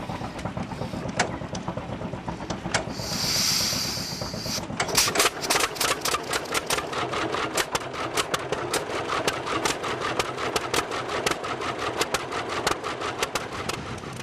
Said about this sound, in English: Now here's David Childress in his 1936 John Deere AO